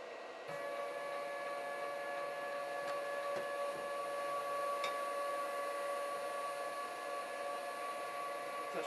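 Steering motor and gearbox of the Weedinator drive mechanism, a steady faint electric whine with thin tonal hum and a few small clicks, continuous and close, with no voices.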